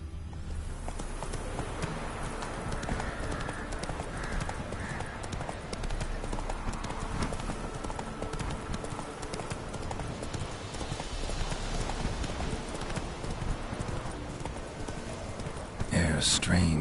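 Roach, Geralt's horse in The Witcher 3, trotting with a steady rapid clip-clop of hooves close by, continuous under ambient game sound, with a louder burst near the end.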